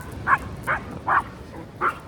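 A dog barks four times at a steady, spaced rhythm, short muffled woofs at moderate distance over faint outdoor background noise.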